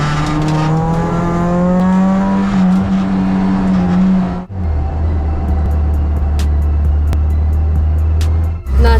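A race car on a slippery circuit during a first test lap, its engine droning loud and close with rising revs, then a gear change into a lower steady roar with faint ticking and a brief dip near the end.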